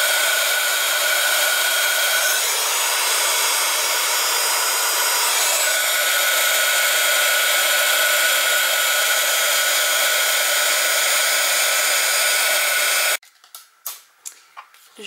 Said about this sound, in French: Je fais chauffer mon heat gun.